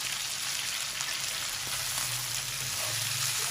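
Meat frying in a pot with ginger-garlic paste and salt, a steady loud sizzle running throughout with faint stirring underneath.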